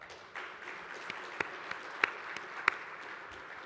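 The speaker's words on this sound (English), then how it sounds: "Please join me in giving these outstanding companies a big round of applause." Audience applause for NHLA member companies at a hardwood lumber association convention, a soft, steady wash of clapping with a few sharper individual claps standing out near the front.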